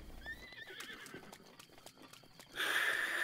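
Horse in the video game The Legend of Zelda: Breath of the Wild whinnies with a wavering high call, then a louder, harsher burst of neighing near the end, over soft game ambience.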